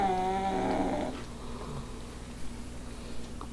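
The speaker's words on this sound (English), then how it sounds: "this is your sister snoring up a storm" Close, steady snoring with a rough, rumbling purr-like drone, the strongest breath at the start, then quieter breathing.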